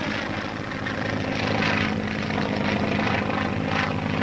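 A propeller training plane drones steadily in flight, a loud, continuous engine and airscrew roar with no voices.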